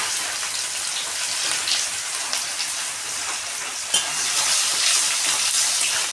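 Sliced onions sizzle in hot oil with a bay leaf in a pan, a bright, steady crackling hiss close by, with a brief clatter partway through and the frying growing slightly louder afterward.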